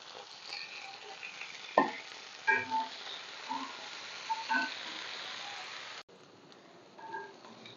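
Crushed vegetables sauté in a pan with a soft, steady sizzle, broken by scattered stirring scrapes and knocks, heard close and fairly quiet.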